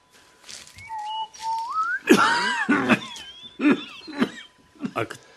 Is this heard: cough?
yes